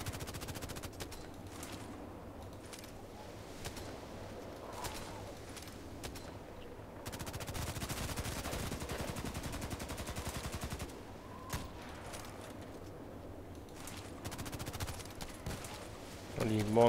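Gunfire in a sniper video game, dense bursts of shots and rapid firing running through the whole stretch at moderate level, with a louder sustained volley in the middle.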